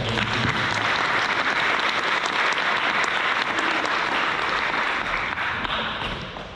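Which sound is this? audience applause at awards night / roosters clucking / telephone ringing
audience applause at awards night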